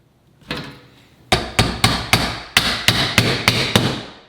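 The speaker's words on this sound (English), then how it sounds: "Push it tight, make sure your corner looks good, then you just pop your nails in." Hammer blows driving nails through metal corner bead into drywall, a single strike followed by a steady run of about nine sharp, evenly spaced hits, close and loud with no talking.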